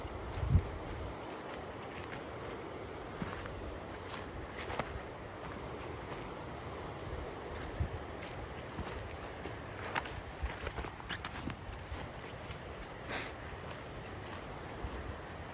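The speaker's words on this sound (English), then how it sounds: "You hear the crunch of the pine cones as I walk across" Slow, irregular footsteps crunching over dry pine cones on a forest trail near the Metolius River, with occasional sharper cracks and snaps underfoot against a quiet background.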